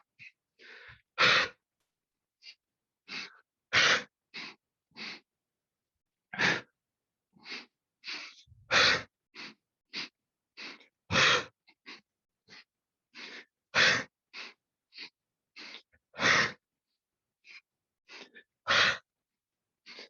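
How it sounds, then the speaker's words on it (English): Forceful nasal exhales from a yoga breathing exercise during a hatha class, about twenty sharp bursts in an uneven rhythm with brief quiet gaps between them, close and fairly loud, with no talking. "Inhaling through the nose, powerful exhale."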